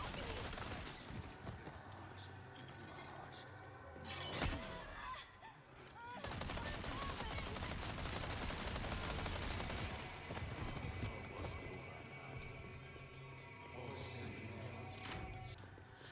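Sustained bursts of bullets fired at an enemy in Resident Evil 4 Remake, loud crackling shots layered over game music and impacts, with a lull midway before firing resumes.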